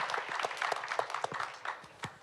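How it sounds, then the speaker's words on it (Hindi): An audience at a business conference in India claps for a chairman, a faint, brief burst of scattered hand claps from a hall. "एक बार जोरदार तालियां हो जाए"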